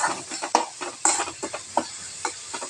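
Fresh grated coconut frying in a pan for coconut rice, with short scraping stirs and bursts of light sizzle repeating every half second or so, close and fairly quiet.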